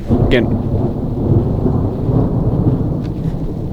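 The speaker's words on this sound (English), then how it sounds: "Getting rain now." Thunder rumbles loud and close over steady rain, a thunderstorm rolling in with rising wind, the low roar continuous throughout with no talking.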